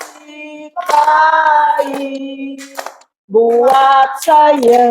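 Children clap their hands in rhythm while singing a worship song in Indonesian in a classroom. Sharp claps are heard under clear sung voices, with a brief pause in the middle.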